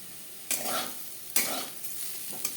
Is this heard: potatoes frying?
yes